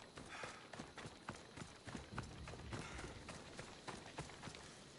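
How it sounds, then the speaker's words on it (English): Horse hooves in the video game Assassin's Creed Odyssey, a quick, rhythmic clip-clop of a running horse, fairly quiet and steady over a soft background. "He had to be sitting on a horse, didn't he?"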